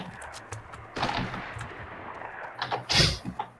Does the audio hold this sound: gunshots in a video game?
yes